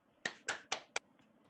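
A lone person claps four times in quiet surroundings. The crisp claps are spaced evenly, and a couple of faint echoes or taps follow.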